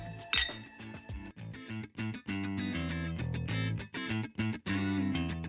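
Glasses of wine clinking in a celebratory toast at a winery event, a sharp ringing clink at the start followed by lively, dense cheering and chatter.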